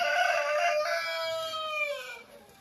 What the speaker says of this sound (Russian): И кушают и старые курочки, кушают молодые курочки, цыплята.